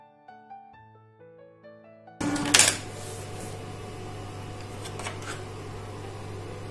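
An Evolis Primacy plastic ID card printer printing a standard CR80 card, starting after a short musical intro with a sharp mechanical burst, then a steady whirring motor hum with faint clicks and feed noises, close and alone.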